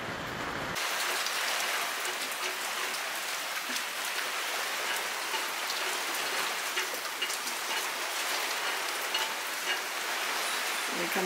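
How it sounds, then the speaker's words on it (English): Heavy rain pours steadily onto a boat moored at Carrabelle on Christmas morning, a dense, constant hiss of drops that stays loud and even throughout, with no voices. "Very rainy Christmas morning here."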